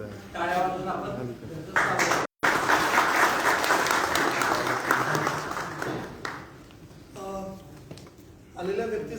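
An audience at a literary gathering in Baramati applauds to welcome a guest author. The clapping is a sustained burst of several seconds, with a person speaking before and after.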